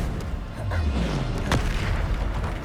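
A Bombarda blasting spell goes off in Hogwarts Legacy, a dull low boom with a falling rumble and a sharp crack near the middle, heard up close over a steady game background.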